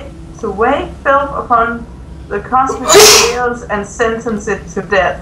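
A loud, sharp sneeze bursts out once in the middle of a co-op session of The Secret World, set between stretches of continuous close talking.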